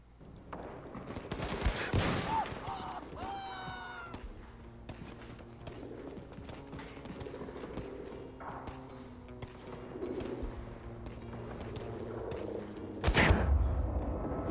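Gunfire from the video game Wolfenstein II: The New Colossus, a burst of shots early on followed by a steady sustained clatter, with a loud close blast near the end.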